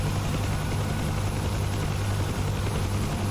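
Helicopter engine and rotor drone from a flight simulator game, a steady loud low hum with a constant whine that holds unchanged throughout, with no voices.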